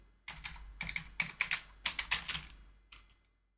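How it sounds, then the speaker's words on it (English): A computer keyboard tapped in quick irregular strokes, about a dozen crisp close keypresses in short clusters, then a final pair after a brief pause, in a quiet room. "I'm pressing on the keys and getting nothing."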